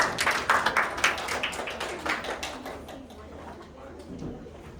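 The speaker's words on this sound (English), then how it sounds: "let's give a round of applause" Scattered applause from a small group, a few brisk claps up front that thin out and trail away over a quiet room.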